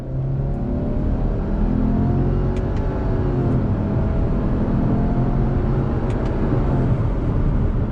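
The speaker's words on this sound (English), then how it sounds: "I want to do another acceleration test from a roll" 2021 Subaru Outback XT Onyx Edition accelerating from a roll in a simulated second gear, its engine note rising steadily in pitch under a constant road and wind roar heard from inside the cabin.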